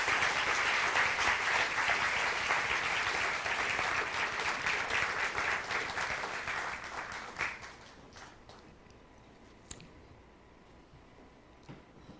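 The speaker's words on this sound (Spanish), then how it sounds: "Denle un fuerte aplauso al Señor" A church congregation gives a loud, dense round of applause for several seconds, then it thins and fades into scattered claps and quiet room noise.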